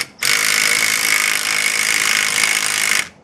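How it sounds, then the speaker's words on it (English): An impact wrench runs on a hub assembly axle nut with the wheel off the ground, giving one loud, continuous, harsh buzzing whir for about three seconds that starts and stops abruptly, with no talk. "now that I have it loosened, I'm going to take my impact and the same setup."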